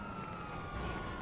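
Police car siren in the video game GTA, set in Los Santos: a steady, continuous wail that holds throughout the short stretch at a constant level, with no talking.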